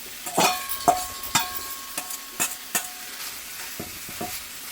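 Philly cheesesteak filling of steak and vegetables gets stirred in a Lodge cast iron pan, with a soft sizzle underneath and a series of close, irregular scraping and clacking strokes from the utensil against the iron.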